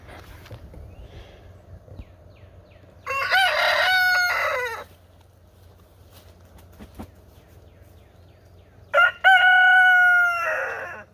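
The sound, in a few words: rooster crowing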